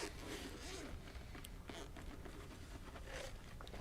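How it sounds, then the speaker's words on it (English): Zippers on a carrying case for audio gear being pulled open, a steady rasping scrape running continuously at close range with small rustles and bumps, quiet and alone without talk. "open up with the zippers"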